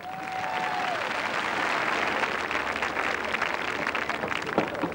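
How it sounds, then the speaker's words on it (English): A crowd applauds steadily for several seconds at the 1987 Grand Knockout Tournament, a dense patter of clapping heard from a moderate distance. "If you please, Alid Jones, round of applause."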